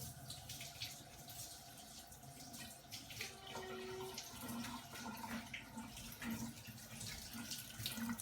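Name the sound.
tap water running while washing greens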